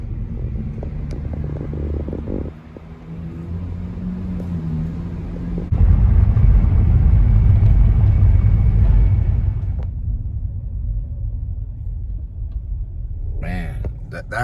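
Cars pass along a road, with a low engine rumble that swells as a vehicle goes by and then fades, and someone talking over the traffic noise.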